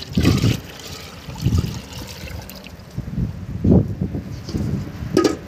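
Paint poured from a gallon can into a spray-painting pressure pot, several separate glugging, trickling pours of thick liquid, close and moderately loud.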